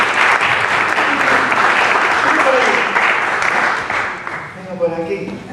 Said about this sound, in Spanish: Un aplauso para Juan.